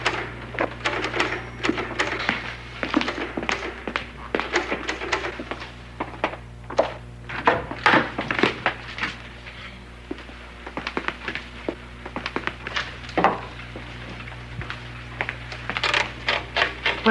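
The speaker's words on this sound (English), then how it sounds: "Is that your typewriter?" A typewriter clacks from a basement below, keys striking in uneven bursts with occasional heavier thunks, fairly distant and muffled against a steady low room hum.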